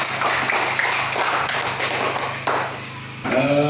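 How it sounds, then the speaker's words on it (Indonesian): Pupils in an elementary school classroom clap together in a dense, steady patter of applause lasting a few seconds, before a voice begins speaking near the end. "tepuk tangan semuanya"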